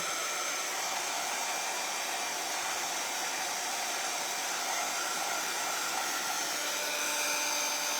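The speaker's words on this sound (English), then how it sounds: "I'm going to have to dry that. And while I'm drying that, I'll go ahead and get the Mod Podge off of this side too." A dryer blows in a steady, unbroken hiss and whir while drying Mod Podge on a craft project, holding level throughout with no voices.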